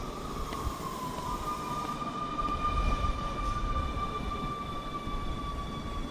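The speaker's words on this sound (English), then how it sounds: "Okay, here we got a train." A subway train pulls into an underground station, its steady rumble and rolling wheel noise joined by a sustained high metallic squeal. The sound holds loud and close throughout, with no talking.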